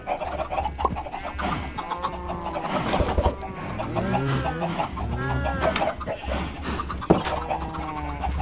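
Chickens cluck repeatedly in Minecraft, with a rooster-like crow mixed in. The flock is close, busy and fairly loud throughout.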